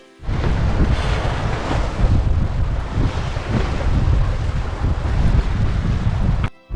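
Strong, steady wind buffeting the microphone on a sailboat crossing the North Atlantic, with rushing water and waves beneath, loud and continuous until an abrupt cut at the end.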